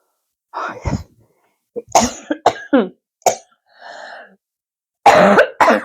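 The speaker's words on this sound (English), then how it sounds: "got this terrible cough that just will not go away" A person coughs repeatedly in short, harsh bursts with brief pauses between, close by, ending in a louder cluster of coughs.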